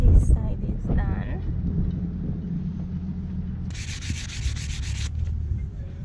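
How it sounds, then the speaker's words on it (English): Rough rubbing and scraping of sanding against a Hallberg-Rassy 54 sailboat's hull at the waterline in Jolly Harbour, Antigua, with a low rumble and bursts of wind noise on the microphone, plus a brief higher scraping stretch. "Waterline sanding is finished also."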